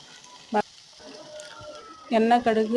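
Oil sizzles and crackles steadily at close range as mustard seeds and cumin fry, with a sharp pop of spices and a brief voice near the end.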